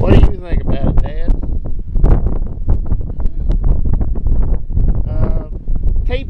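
Strong outdoor wind buffets the microphone in rough, irregular gusts, with someone talking over the noise throughout.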